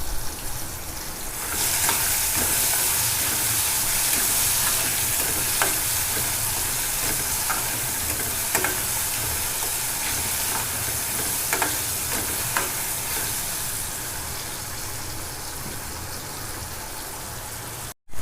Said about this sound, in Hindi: जब तक के लिए हमारे जो टमाटर है वो सॉफ्ट ना हो जाए तब तक के लिए हमें इसे सौते करना है